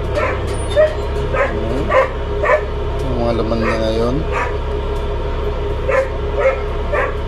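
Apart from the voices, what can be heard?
dogs barking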